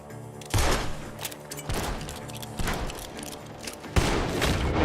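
Gunfire in Red Dead Redemption 2 comes as several heavy, booming shots spaced about a second apart, each with a long rumbling tail over a constant game background.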